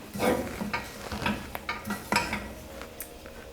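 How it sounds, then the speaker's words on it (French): A spoon scrapes and clinks against a pan while quinoa and spinach are stirred with olive oil, a series of soft irregular knocks and scrapes close by with a faint sizzle underneath. "Et je mélange."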